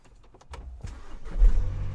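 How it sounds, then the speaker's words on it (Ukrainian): A TDI diesel engine cold-starts in frost at about minus two degrees, a brief starter whir catching quickly into a low idle rumble, close and moderately loud. "зараз подивимося, як він заведеться на холодно"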